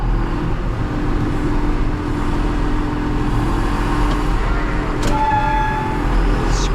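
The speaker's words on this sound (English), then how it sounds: "Squeaky brakes." Brakes on a mini Kramer telehandler give a brief, high squeal late on, rising over a constant low engine rumble close by.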